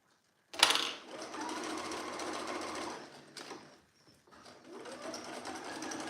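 A sewing machine runs steadily along a long seam of a Molly dress, a continuous close mechanical whir that starts abruptly, briefly dips and pauses near the middle, then resumes at an even pace.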